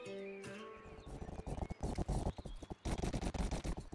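In the video game Rustler, a horse's hooves beat in quick, uneven bursts of close, loud thuds, with a brief quieter stretch before the galloping steps pick up again.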